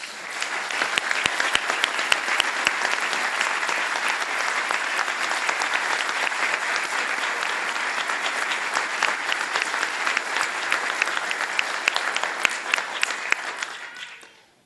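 At a police honor awards ceremony, an audience gives a steady, dense round of applause for award recipients, sustained evenly for about fourteen seconds before fading out at the end.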